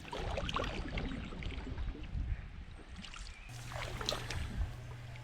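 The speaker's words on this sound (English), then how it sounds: "Paddling tandem, it's best to synchronise the strokes. This way you get a nice smooth passage through the water." Two paddlers in a tandem canoe stroke together through the water, with soft splashes and swishes over a low, continuous water and boat rumble.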